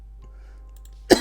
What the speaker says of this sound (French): Par contre, je tousse aussi.